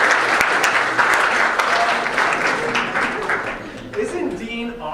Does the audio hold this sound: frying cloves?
no